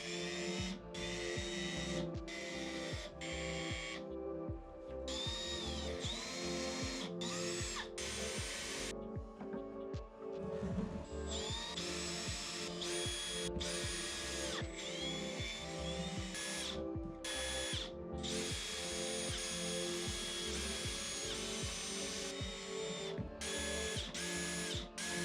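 Cordless drill driving screws into the bottom of a wooden box, many short whirring bursts and ratcheting clicks in quick succession, close and steady, with no talk.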